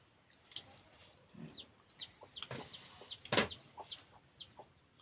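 Chickens cluck in short repeated calls, a few birds near and far, with scattered rustles and one louder clatter among them in an otherwise quiet outdoor setting.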